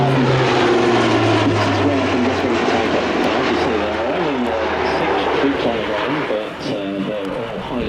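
A C-27J Spartan military transport pitches into the circuit and comes in to land at the Avalon Air Show 2025, its propeller engines giving a loud, close, continuous roar whose pitch shifts as it passes.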